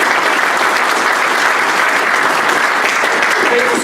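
An audience at a GovHack prize announcement applauds steadily, a dense sustained wash of clapping that holds at full strength for the whole stretch without letting up.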